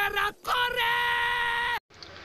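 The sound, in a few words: hooded man yelling at a woman at bus stop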